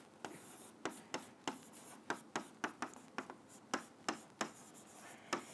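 Numbers being written by hand on a classroom board, a quiet close series of rhythmic scratching strokes, roughly two per second, with no talking.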